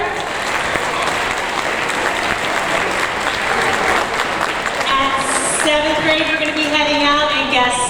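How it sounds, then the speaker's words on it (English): Audience applause for Mrs. Miller at a 7th grade awards ceremony in a school building, a sustained dense clapping that fills the room, with a few brief tonal sounds rising near the end. "round of applause for Mrs. Miller"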